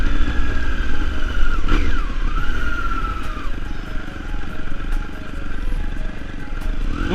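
A Triumph Daytona 675 motorcycle fitted with a Yoshimura exhaust drones steadily and loudly under way, with a constant engine hum and wind rush and a slight rise and fall in pitch.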